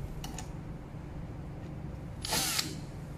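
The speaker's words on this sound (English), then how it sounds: "use the screwdriver to fix it like this way" A powered screwdriver drives a screw into the corner cover of an IR touch frame on an interactive board, a short close whirring burst near the end after faint clicks, over low steady room hum.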